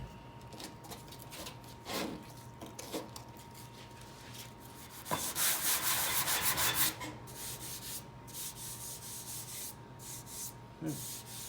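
Hand sanding of a wooden speaker enclosure with 80 grit sandpaper: scratchy rubbing strokes in uneven bursts, with a longer, louder stretch of continuous scrubbing in the middle, close and alone.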